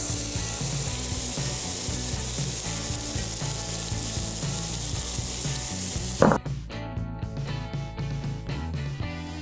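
Minced garlic and chopped onion frying in melted butter in a pan, with a steady, loud sizzle throughout, and a sharp clatter of stirring about two-thirds in, after which the frying continues a bit more softly.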